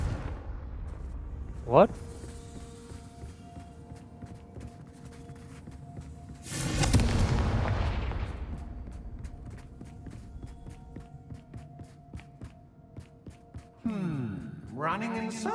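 Confringo spell blasts in the Hogwarts Legacy video game: a sharp crack early on, then a big roaring burst with a long rumbling tail over steady game music and footsteps, with a short spoken exclamation.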